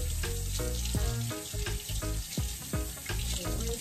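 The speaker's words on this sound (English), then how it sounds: "I'm gonna go ahead and rinse these potatoes off" Water from a faucet splashes steadily over potatoes being rinsed at a campsite cooking spot, with irregular gurgles and spatters close by, fairly quiet and with no talking.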